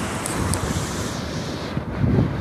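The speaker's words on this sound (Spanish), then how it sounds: "Me voy a callar para que escuchen las olas." Ocean waves in Cancun rolling and washing in under strong wind buffeting the microphone, with a louder surge near the end.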